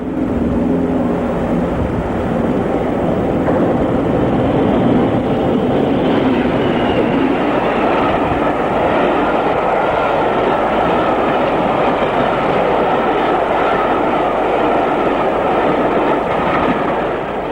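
British Rail Class 40 diesel locomotive hauling a train at Conisborough, a steady loud engine drone with rolling wheel and rail noise throughout, no talk.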